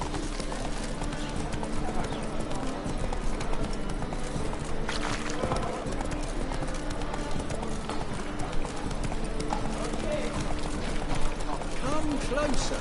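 In the Witcher 3 game world, the horse Roach gallops and clip-clops in a rapid steady hoofbeat rhythm throughout, mixed with game ambience and someone speaking over it.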